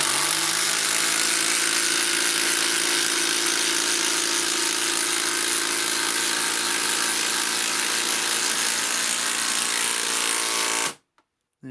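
A Makita 12V brushless impact driver on its highest setting hammers a 100mm stainless batten screw, a loud continuous rattling buzz for about eleven seconds that stops abruptly.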